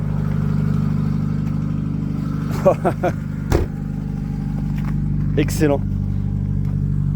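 Fiat TU engine swapped into an Iveco Daily van settles to a steady idle after a few gentle revs, a low continuous rumble with brief throttle blips over it; someone speaks briefly above the engine.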